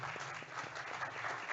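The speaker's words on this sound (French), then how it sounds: "On peut les applaudir bien fort." A roundtable audience gives brief, faint applause, a soft, fairly distant patter of clapping hands.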